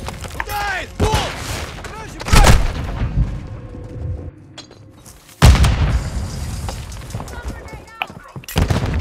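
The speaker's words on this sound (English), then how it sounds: "Grenade, watch out!" A grenade goes off in Call of Duty: Modern Warfare II, one of several loud, sharp blasts among gunfire. Deep rumbling tails follow, and voices shout between the bangs.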